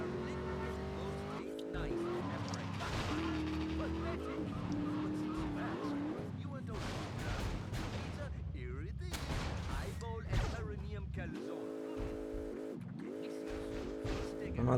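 A car races through the streets in the video game Grand Theft Auto: Liberty City Stories, its engine revving and shifting pitch, with bursts of noisy tyre skidding and rough crashes mixed in.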